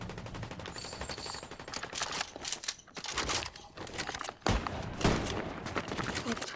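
Video game gunfire including sniper rifle shots in a ranked match, sharp loud cracks and bursts of shooting mixed with other battle noise and voices, with heavy broadband blasts near the middle and end.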